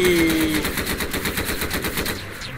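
Rapid automatic gunfire from a Roblox-style Garry's Mod game, loud and continuous bursts of machine-gun shots filling the whole stretch with no voices.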